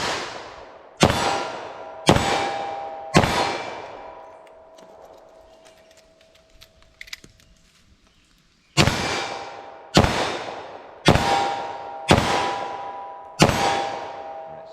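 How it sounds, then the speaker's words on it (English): A snub nose .357 Magnum revolver firing Hornady Critical Duty rounds: five loud sharp shots with ringing decay, a pause with reloading clicks, then five more evenly spaced shots. "Fire off 5 rounds, do a reload, fire off 5 more."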